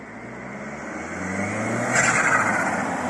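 An Audi A3 turbo with 180 cv accelerates, its engine rising steadily in pitch and loudness with a hissing turbo note toward the end, heard alone without speech.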